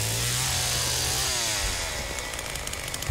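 Leatherface's chainsaw in the Texas Chainsaw Massacre game roars loud and close, then sputters and breaks down into rough clattering noise.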